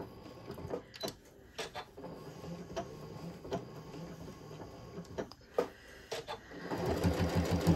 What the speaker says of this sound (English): Just sew right along.